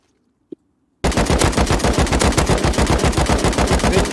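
Automatic weapon fire in the survival game Rust: after a single faint click, a loud, sustained rapid burst of evenly spaced gunshots runs without pause for about three seconds.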